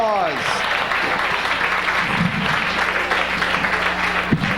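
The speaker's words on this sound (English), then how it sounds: "Give him another round of applause." Comedy club audience applauding comedian Scott Blakeman: steady, full clapping from a packed room, held at an even level for several seconds with faint voices underneath.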